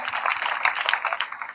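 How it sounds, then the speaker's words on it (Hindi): A school audience claps briefly in a classroom, a short burst of scattered hand claps that is fairly quiet and uneven. "वेरी गुड, तालियां बजाएं।"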